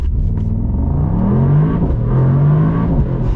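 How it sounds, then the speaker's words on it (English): Brabus SL GTS Rocket wagon pulling away from a standstill, its engine note rising steadily in pitch as it accelerates hard, loud and close throughout with no talk. "just accelerate from 0"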